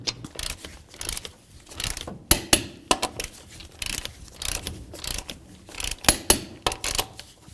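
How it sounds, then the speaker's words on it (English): A ratchet-style torque wrench tightens the front wheel lug nuts on a 1994-2004 Chevy S-10 pickup to 100 foot-pounds, giving repeated bursts of sharp metallic ratcheting clicks with short pauses between strokes, close and clear with no talking. "torque the lug nuts to 100 foot-pounds"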